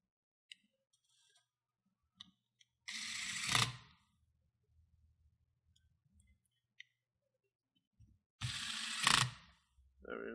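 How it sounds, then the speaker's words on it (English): A screwdriver drives two small screws into the back of an Alienware 17 R4 laptop, two separate bursts of quick ratcheting clicks several seconds apart, close and quiet, with faint taps between them. "And we're gonna put the two screws right at the back."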